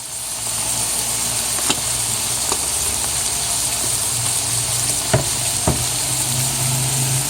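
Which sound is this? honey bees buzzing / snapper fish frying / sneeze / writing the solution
snapper fish frying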